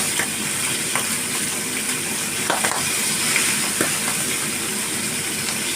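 Food frying in a pan with a continuous bright sizzle, broken by occasional sharper crackles and pops, close and steady throughout.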